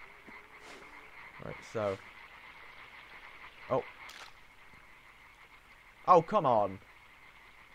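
Frogs croaking in the video game Limbo, several short croaks spaced apart over a faint steady hum, with a louder cluster near the end as someone talks briefly.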